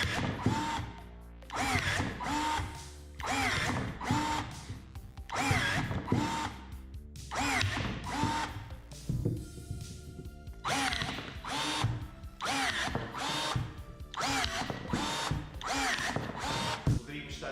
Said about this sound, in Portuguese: Poderíamos estar aqui a cortar isto até acabar a bateria